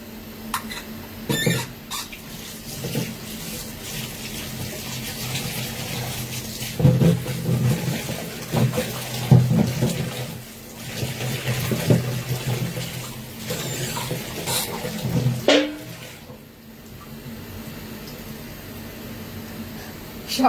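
Potatoes and ivy gourd washed under a running kitchen tap, with water splashing and gurgling unevenly, a few louder bursts and rustles of handling, then the flow easing off.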